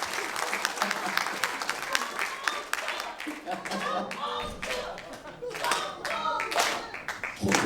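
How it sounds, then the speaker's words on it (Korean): Audience at a Korean political talk event clapping loudly and continuously, dense sharp handclaps filling the room for several seconds, with voices and shouts mixed in. "박수를 크게 쳐야 됩니다."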